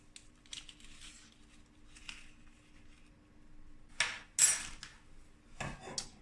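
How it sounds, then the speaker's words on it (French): Light scraping and clinking of a spoon stirring agar-agar powder into water in a small saucepan, with a couple of louder knocks against the metal near the end. "On va mélanger, on va délayer l'agar-agar dans l'eau."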